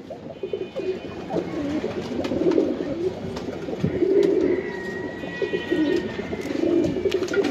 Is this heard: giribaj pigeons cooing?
yes